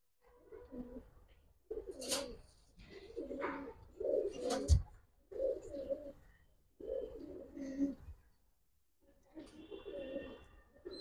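Pigeons, including a silver cock sitting on eggs with its hen, cooing in repeated low throaty phrases with short pauses, close and fairly soft.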